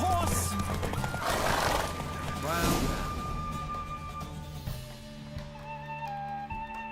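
Horse in The Witcher 3 gallops with rapid clip-clop hoofbeats and lets out loud neighs early on, the hooves continuing more faintly afterward amid game sounds and music.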